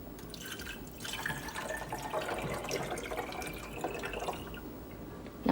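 About 12 ounces of water from a cup are poured into the reservoir of a CHULUX single-serve coffee maker, a close, continuous splashing trickle with a brief clunk at the end.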